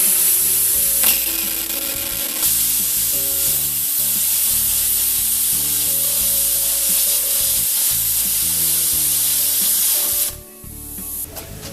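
A plasma torch burns a hole through metal with a loud, steady roaring hiss that runs almost unbroken, dropping off abruptly near the end as the cut stops.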